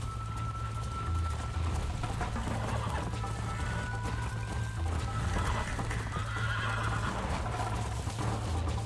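Horse neighing and clopping hooves in the Red Dead Redemption 2 video game, with a steady low engine-like drone and busy background noise running continuously under the whinnies.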